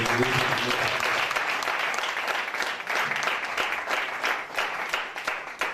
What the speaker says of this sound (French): Je veux une offrande d'acclamation pour les